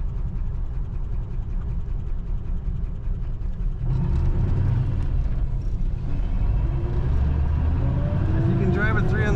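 A 1940 Cadillac Series 60 Special Fleetwood gets under way, with a low engine rumble and cabin road noise that swell as it gathers speed, someone talking over the top.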